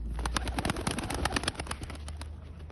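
A young pigeon flutters and moves close by, with soft repeated flapping and faint cooing against a quiet background.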